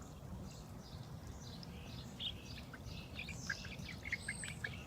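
Birds call in a garden with short, high chirps and tweets, mostly in the second half, over a steady low background rumble, moderately close but not loud.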